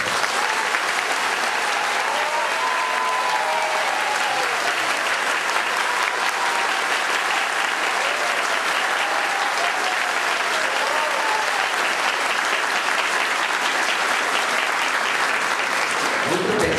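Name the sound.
congregation applauding in parish hall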